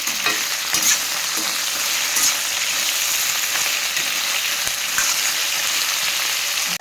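Okra masala curry frying in a pan gives a loud, even sizzle that holds throughout, with occasional clinks and scrapes as it is stirred.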